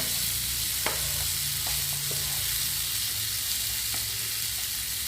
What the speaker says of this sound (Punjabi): ਤੇ ਨਾਲ ਹੀ ਪਾ ਦਾਂਗੇ ਆਲੂ ਇਹਨਾਂ ਨੂੰ ਕਰ ਦਾਂਗੇ ਮਿਕਸ ਚੰਗੀ ਤਰ੍ਹਾਂ